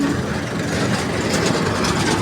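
Loud, continuous rumble of a train passing close by, with rattling clatter rising toward the end.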